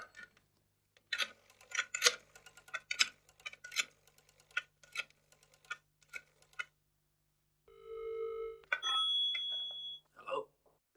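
A telephone rings while a call is placed in an English-learning detective series, following a run of sharp ticking key presses. A short, steady electronic ring tone sounds twice, clear and close, with no talking.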